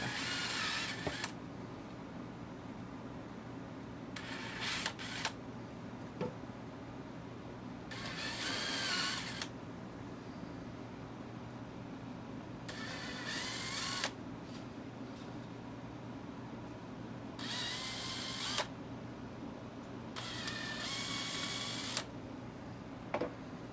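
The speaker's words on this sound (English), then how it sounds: "I'm just pre-drilling and countersinking the holes" Repeated short bursts of a power drill whirring through wood, pre-drilling and countersinking holes for a drawer, about six runs separated by pauses, over a steady low background hum.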